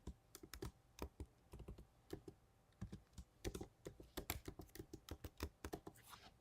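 Quiet, irregular bursts of computer keyboard typing, clicks coming in quick clusters with short pauses, close by and alone without any talk.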